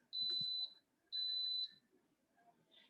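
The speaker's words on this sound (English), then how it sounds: "You heard the beeps." An Instant Pot pressure cooker gives two clear, high electronic beeps about a second apart while its pressure is being set, each tone held for about half a second, with faint kitchen noise and a little talk around them.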